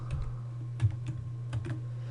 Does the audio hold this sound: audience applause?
no